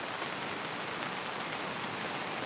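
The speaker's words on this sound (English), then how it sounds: "And the sound of that rain too." Heavy rain falls steadily at a campsite, a dense even hiss of drops that runs unbroken throughout and stays fairly quiet, with no voices over it.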